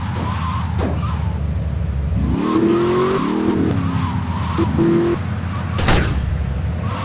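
A car in Grand Theft Auto III drives with a steady engine drone, then its tires squeal loudly in several skids, close by, with no talking.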